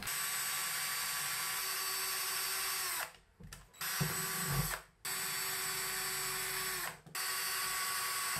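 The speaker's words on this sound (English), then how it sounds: "I found a drill bit that works for this piece." A power drill whines steadily, stopping briefly a few times with short bursts of grinding and clatter in between, close up, as a drill bit bores a hole in a piece for a basement mushroom-growing setup.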